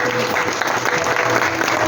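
A church congregation applauds throughout, a dense, steady wash of many hands clapping that fills the space evenly from start to finish.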